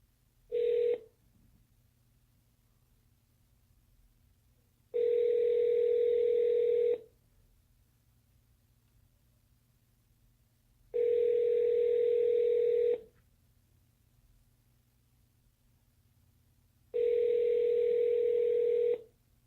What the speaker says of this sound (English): I'm calling you on my JBL Clip 3